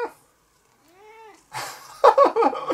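A house cat gives a single drawn-out meow in a quiet room, followed by close rustling and handling noises.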